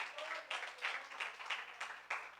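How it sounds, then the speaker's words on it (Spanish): A church congregation claps during a Spanish-language sermon, a faint room-filling applause with pulsing swells of many hands, fairly distant and without talk over it. "Dele un aplauso al Señor por eso."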